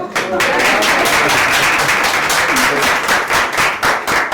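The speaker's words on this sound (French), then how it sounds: "Applaudissez-le." A crowd applauds steadily, a dense patter of many hands clapping throughout, with a voice briefly audible beneath the noise.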